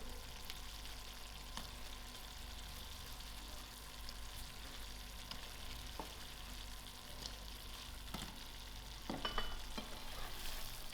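Paneer cubes go into a thick, sizzling chilli sauce and are stirred, a soft continuous frying hiss broken by a few scraping clicks of the spoon, quiet and close.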